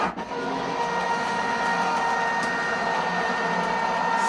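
An AccuQuilt Go Big electric fabric cutter runs six layers of fabric through its rollers, a steady close mechanical whir and hum with a faint rhythmic ticking throughout, no voices over it.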